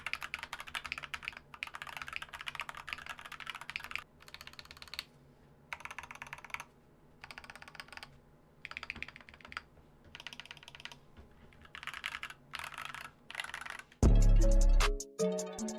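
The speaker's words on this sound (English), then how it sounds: "today I'm going to show you how I turn my MK61 keyboard from this" Typing on a Gamakay MK61 mechanical keyboard: rapid bursts of crisp key clicks and clacks, close up, separated by short pauses, ending in a louder thump.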